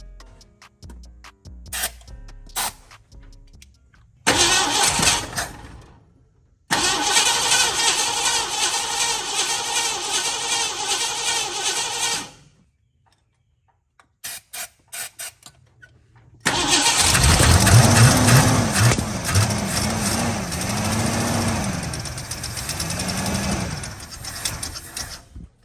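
Captain Crew engine after a carburetor rebuild, boosted with ether: first bursts of cranking, then a rough start that runs for several seconds, stalls and goes quiet, then catches again and idles loudly with an uneven, lumpy rhythm.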